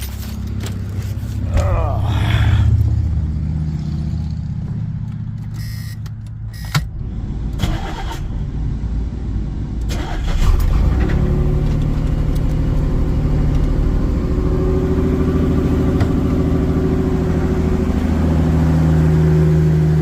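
A 1985 Camaro with a newly replaced fuel pump cranks with whirring and clatter, then catches and settles into a loud, steady rumbling idle nearby; someone talks over part of it.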